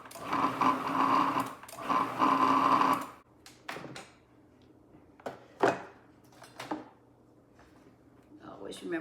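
Food processor pulsing about 2.5 cups of flour for quiche dough, heard as two short buzzing bursts close by, followed by scattered knocks and clatter as the machine stops.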